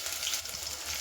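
Onion hitting hot oil for a village-style chicken curry cooked over a wood-fired stove, a dense, close, continuous sizzle lasting about a second, no talk.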